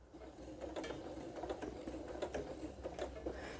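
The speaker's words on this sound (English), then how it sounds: "At the end, do a little back stitch" A sewing machine running a short back stitch while sewing a cathedral window pillow, a quiet rapid mechanical ticking and whirring in close, even bursts, with no talking.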